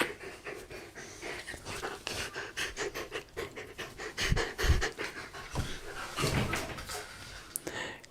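Dog panting rapidly and steadily while out on a walk, close and continuous, with faint footsteps and rustles.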